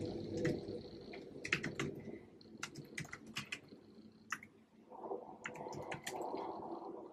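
Computer keyboard keys typed in short irregular bursts with sharp clicks, with a final press of the enter key, at close range over a soft continuous background hum.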